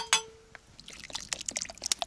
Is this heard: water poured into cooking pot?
yes